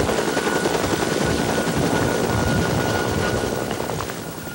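Rescue helicopters search a mountain ridge on Mt. Hood in May 1986. A rotor drone churns on steadily throughout, loud and close, then eases slightly toward the end.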